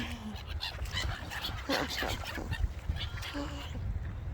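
Several runner ducks quack and honk in a busy, overlapping chatter close by, with a voice faintly mixed in.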